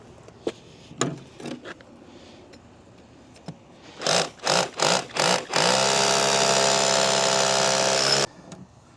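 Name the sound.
power drill drilling anchor hole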